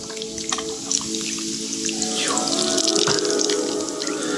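Beer pours steadily into a metal cooking pot, a bubbly splashing stream with a few drips and clinks, fairly close.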